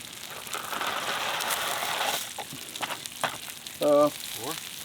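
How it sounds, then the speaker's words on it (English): Food bubbles and sizzles in a pot set over a campfire outdoors, a steady crackling hiss with brief clanks and a short whistle-like tone near the end. "It's already boiling a little bit."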